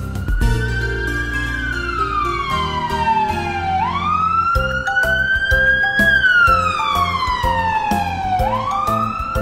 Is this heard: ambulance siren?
yes